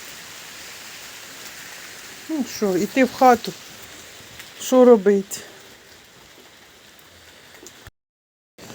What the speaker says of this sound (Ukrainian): Бачите, капає з винограду з криші.